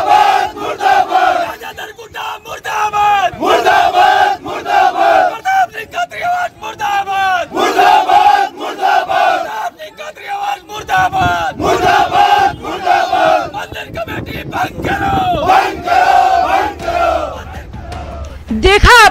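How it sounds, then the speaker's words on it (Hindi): Crowd of protesters loudly chanting slogans in unison against Rajasthan government ministers, a repeated rhythmic call-and-response shout filling the clip throughout, close and dense. "देखा आपने, आक्रोश, नारेबाजी और प्रदर्शन"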